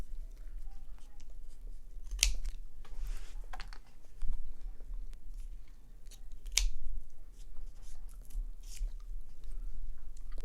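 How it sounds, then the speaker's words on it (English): Scissors cutting thin cardboard for a bunny puppet, a few sharp snips spaced apart with faint rustling between, quiet and close. "And the other scissors will cut this."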